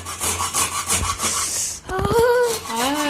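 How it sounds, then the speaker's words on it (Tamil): A dirty dosa tawa, an iron griddle, being scrubbed clean: a close, loud abrasive rasping in steady back-and-forth strokes, then a few quick harsh scrapes with squeaky tonal rubbing. "இப்ப இந்த பக்கமும் நான் தேய்ச்சி காட்டுறேன்"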